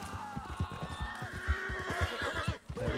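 A horse in the Red Dead Redemption II video game whinnies with a quick, shaky neigh over rapid hoof clops, close and clear with no talk.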